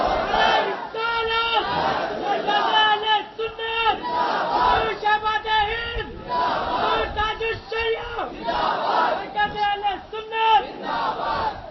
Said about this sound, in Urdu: اپنے اپنے ہاتھ بلند کر کے نعرہ تکبیر لگا دیجئے